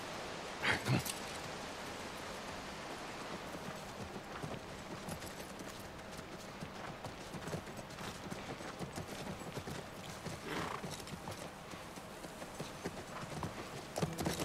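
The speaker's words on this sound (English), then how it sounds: "That's my one. Brown horse." Horse hooves clip-clop quietly in The Last of Us Remake on PS5, a brown horse walking at a steady rhythm amid soft ambient outdoor noise, faint and fairly distant.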